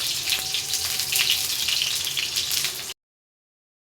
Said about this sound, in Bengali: বেগুনগুলো তেলে ছেড়ে দিয়েছি বেগুনগুলো ভেজে নেবো